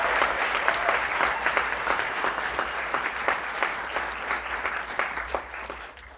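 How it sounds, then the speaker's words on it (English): An audience at an iOS fellowship demo day applauds alumni, a dense burst of many hands clapping close and steady, slowly thinning toward the end. "Let's give them a round of applause."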